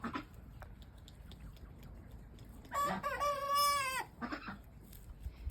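A rooster crows once, loud and drawn-out, over a quiet yard with chickens and ducklings, a few soft clucks and chirps before and after.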